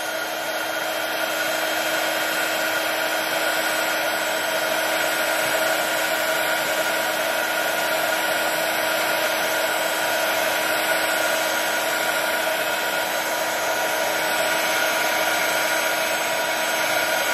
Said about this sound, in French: je commence à faire réchauffer un petit peu mon heat gun. Je fais fondre les paillettes